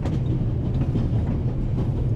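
Moving train in the video game Pathologic, a steady low rumbling roll with faint rhythmic clatter of wheels, continuous and close, with no voices over it.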